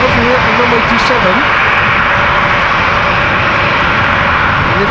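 A business jet roars steadily as it takes off from Amsterdam Schiphol Airport. The broadband engine noise holds loud and constant throughout, with someone talking over it.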